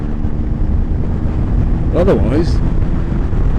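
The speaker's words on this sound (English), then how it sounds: "It's windy enough that the gusts are unbalancing the bike." Strong gusts of wind buffeting a microphone while riding a Triumph Tiger motorbike on a blustery road, a continuous roaring rumble with a brief voice speaking midway.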